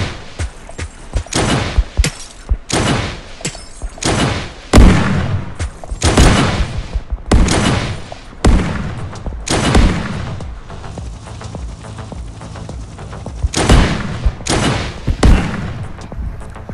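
A helicopter video game fires a fast, powerful gun in loud bursts of gunfire and booming impacts, irregular clusters of shots with short pauses, close and dominant throughout.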